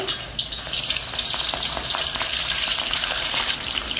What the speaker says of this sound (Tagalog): So, iprito, bago iprito muna natin yung ating prawn.